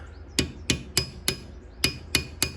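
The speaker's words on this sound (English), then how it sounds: "I was only able to tap it down so far" A hammer strikes a punch to tap a pin out of a plastic GTR steering wheel part, seven sharp metallic blows in an even rhythm, close and clear.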